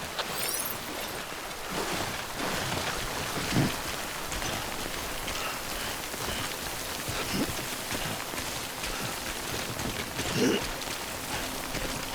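Steady rain pours in the game Death Stranding, a dense even hiss throughout with a few faint low thumps, moderately loud and continuous.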